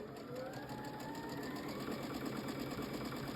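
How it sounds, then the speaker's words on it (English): A sewing machine stitches a quarter-inch quilt seam, its needle running in a fast, even, continuous hum close by. "And you're just gonna sew with your 1/4 inch seam"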